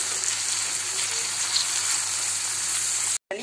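Parwal frying with onion and green chillies in a pan, a loud, constant close-up sizzle like steady rain that stops abruptly near the end.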